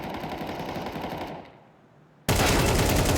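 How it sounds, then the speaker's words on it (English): Rapid automatic gunfire in a Counter-Strike esports match rattles loudly, breaks off for a moment, then bursts back in at full volume. "It sounded like a headshot, but Apex is alive."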